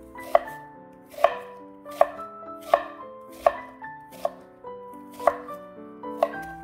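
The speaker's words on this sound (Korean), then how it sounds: "고기의 맛을 부드럽게 해주는 배는 씨와 껍질을 제거하여 100g을 준비해서 갈기 쉽게 이렇게 썰어둡니다" A knife cuts through a peeled, seeded pear on a cutting board for Korean LA galbi marinade, making about eight crisp, evenly spaced chopping knocks, close and clear with nothing else heard.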